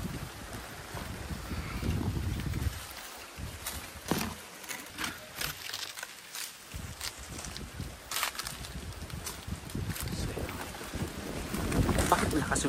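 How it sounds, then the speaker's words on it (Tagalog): Strong wind gusts roar across the microphone outdoors near a small burnt hut at night, with loud low buffeting rising and falling throughout and a brief lull in the middle. "Bakit malakas yung hangin dito?"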